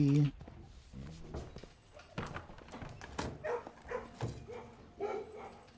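A puppy barking and yipping in the video game Blue Prince, several short bark-like bursts spread across the clip under someone talking over them.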